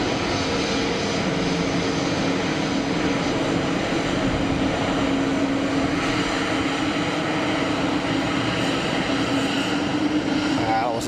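A fixed-wing airliner takes off from Geneva Airport and retracts its gear, its engine roar loud, steady and broadband throughout, with a faint higher whine near the end.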